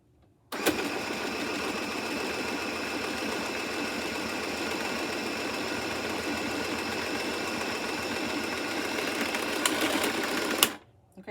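A Michele Tivax Sew & Sew Inspiration 700 sewing machine runs continuously for about ten seconds, a close, steady rapid whirring and clatter that stops abruptly near the end.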